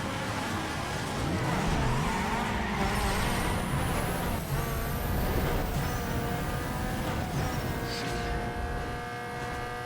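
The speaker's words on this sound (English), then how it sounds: "Let's quickly go and do a drag race." Toyota Corolla 1.6L I4 engine roars through a drag race in Need For Speed Underground 2, loud and continuous, with rising revs and shifting engine tones across the whole run.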